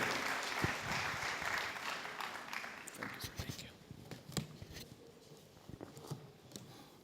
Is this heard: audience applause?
yes